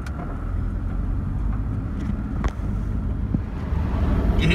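A big four-wheel-drive vehicle heading out on the road, its engine and tyre rumble a steady low drone throughout with wind buffeting the microphone and a couple of brief knocks, no talk.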